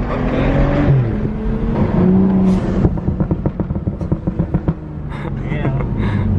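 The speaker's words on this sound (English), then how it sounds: "That's a turbo spool and then the blow off valve." BMW 435i with a stage 2 tune, turbocharger spooling up under loud engine revving, then a rapid burst of sharp pops and flutters from the blow-off valve as the throttle lifts; a voice talks over it.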